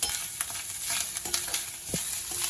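Something frying in ghee until reddish for South Indian coconut rice hisses steadily up close, with brief stirring scrapes and small pops over a couple of seconds and no voices.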